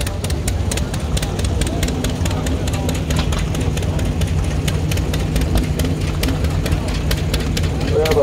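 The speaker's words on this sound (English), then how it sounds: "a 1948 Model D John Deere" A 1948 John Deere Model D tractor engine idles with a steady, loud, rhythmic popping and chugging, continuous throughout with no break.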